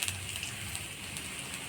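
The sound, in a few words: black cumin seeds sizzling in hot oil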